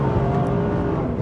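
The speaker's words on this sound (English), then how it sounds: "that is a crispy throttle, innit? Loving the sounds as well." A 1270 hp Audi TT with a tuned engine revs on the throttle, producing a loud, close, droning engine roar that holds steady throughout.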